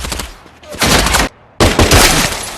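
Loud bursts of gunfire in a video game shootout with police in Manhattan: two dense, close volleys of shots, separated by a brief gap.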